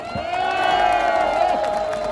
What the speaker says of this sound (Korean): 김종인 비대위원장, 그리고 우리 조영 원내대표, 전소 의원께, 나경원 원내대표, 다시 한번 큰 박수 부탁드리겠습니다.